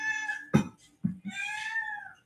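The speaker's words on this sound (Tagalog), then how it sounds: "Pusa namin" A pet cat meows up close in a few drawn-out cries, one long call at the start and another at the end, split by short breathy sounds.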